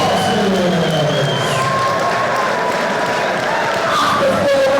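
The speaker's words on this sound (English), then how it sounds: "will you please have a big round of applause for both of our boxers" Applause and cheering from a boxing crowd saluting both fighters after a four-round bout, a dense, steady roar of clapping and shouts that stays loud throughout.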